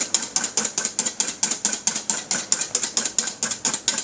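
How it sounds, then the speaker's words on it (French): Génoise sponge cake batter being whisked by hand off the bain-marie, heard as a fast, even series of close, loud rhythmic whisk strokes, about three or four a second, with no voices. "Nous allons fouetter hors du bain-marie jusqu'à complet refroidissement."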